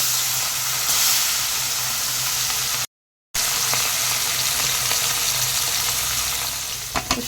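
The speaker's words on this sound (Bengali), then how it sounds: "বাকি মাছগুলো ভেজে নেব" The remaining small hilsa fish fry in hot oil with a continuous, close sizzling hiss, a short gap partway through and a few light clinks near the end.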